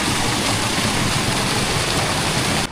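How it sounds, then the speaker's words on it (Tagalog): Rushing water runs steadily in a stream, a loud, dense, unbroken wash of noise close by that cuts off abruptly at the end. "Lumakas yung tubig."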